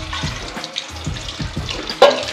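Dirty wash water from rinsing batua greens is poured out of a bowl, a close sloshing splash with uneven gurgling surges and a sharper splash near the end.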